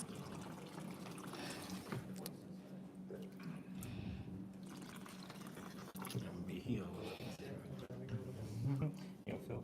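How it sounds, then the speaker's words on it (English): Hands being lowered into a basin of cold water for a contrast bath during a hydrotherapy demonstration; soft sloshing, dripping and trickling splashes heard close by, with people talking over them. "now you're putting your hands in the cold water"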